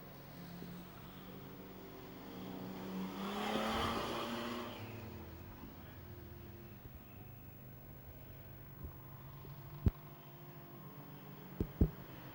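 Junior sedan race cars circle the dirt speedway at Kingaroy, Queensland. Their engines swell into a louder, passing roar partway through, then fade back to a distant drone, with a few sharp clicks near the end.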